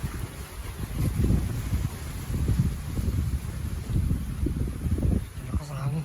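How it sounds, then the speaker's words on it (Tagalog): Strong wind gusts roar outdoors as steady low rumbling buffets the microphone, rising and falling in waves throughout, with a voice talking faintly at times. "malakas yung hangin"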